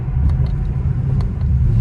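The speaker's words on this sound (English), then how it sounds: "That shit sound crazy when you downshift." A fifth-generation car's engine rumbles low and steady with a couple of faint pops during a downshift, heard from inside while driving through city streets.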